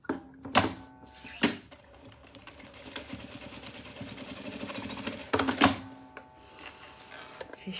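A sewing machine stitches a double cosmetic bag, with a few sharp mechanical clacks at the start, a steady whirring run through the middle, then more clacks.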